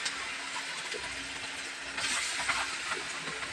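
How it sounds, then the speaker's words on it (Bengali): Chicken dropped into hot oil, giving a steady broadband sizzle and hiss with a brief louder burst of crackling partway through, fairly close and without talk. "আমি এই মুহূর্তে এখন মুরগিটাকে আমি তেলের মধ্যে ছেড়ে দিব ভাজার উদ্দেশ্যে।"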